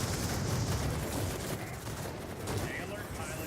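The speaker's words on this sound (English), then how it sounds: "While you're shooting, make every shot count." Steady machine-gun fire from a plane in World of Warplanes, a continuous dense rattle of gunfire in a busy aerial battle mix that keeps going for the whole stretch.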